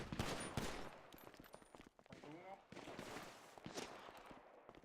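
Gunfire in an online roleplay game sounds as dense bursts of rapid shots and scattered single cracks, loud and continuous throughout, with voices talking over it.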